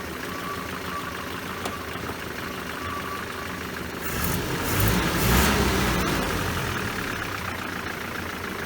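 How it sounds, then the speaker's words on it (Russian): Volga GAZ-24 engine with a Solex carburetor running on LPG, idling low and steady, then briefly revving louder in the middle before settling back to a smooth idle. "ловим минимальные обороты, при которых двигатель может работать"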